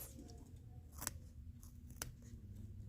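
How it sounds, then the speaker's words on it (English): Scissors cutting along a drawn line on sweetgrass backing material, two crisp close snips about a second apart over a quiet background. "going to take my scissors,"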